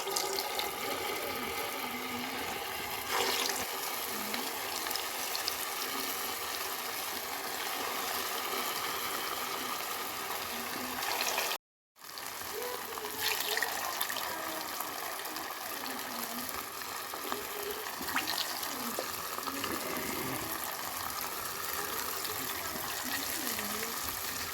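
Crispy raw potato kebabs go into hot oil, giving a steady, broad hiss and sizzle that runs throughout at moderate loudness, broken by one brief silent gap midway.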